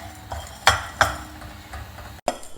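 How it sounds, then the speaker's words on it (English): Cumin seeds being dry roasted in a pan, with a few sharp scraping knocks of a spoon against the metal pan over a faint background crackle, close and fairly quiet. "Also add a teaspoon of jeera or cumin seeds to it. Dry roast both of them together."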